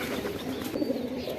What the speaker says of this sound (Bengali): দেখেন একজোড়া সুন্দর কবুতর দেখাইলাম